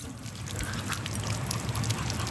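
Water poured out for dogs at a dog park, a steady trickling splash running continuously under outdoor background noise.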